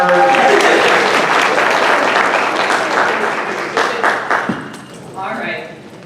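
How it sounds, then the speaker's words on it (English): An audience claps for a woman named Addie at a storytelling event, a dense steady patter that tapers toward the end as voices and cheers come through. "Clap for her."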